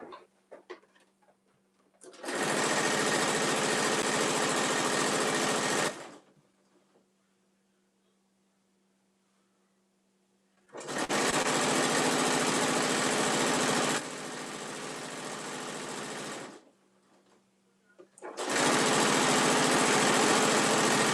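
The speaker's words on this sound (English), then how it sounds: "Let me run a stitch down this real quick." A sewing machine runs a stitch down a full-size top-handle tote bag in three sustained bursts of steady motor whir, separated by quiet pauses.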